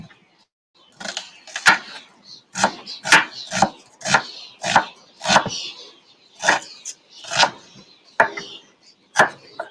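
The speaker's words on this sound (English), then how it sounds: "the onions don't need to be sort of uniformly cut. They can just be just chopped a bit" A knife chopping onions on a board: about a dozen sharp, separate cuts at an uneven pace, close and fairly crisp, with no talking.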